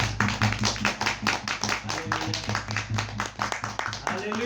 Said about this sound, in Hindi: परमेश्वर के लिए सब ताली बजाते हैं।